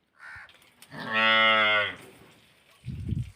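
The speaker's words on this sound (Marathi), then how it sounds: "वासरू कसं हमरत आहे दूध पिण्यासाठी" A calf calling to suckle milk gives one long, loud, close moo, followed by a short rustle or thump.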